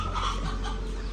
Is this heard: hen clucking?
yes